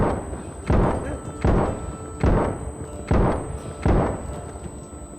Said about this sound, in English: Your character will become deaf for a brief moment when spamming a 50 cal rifle.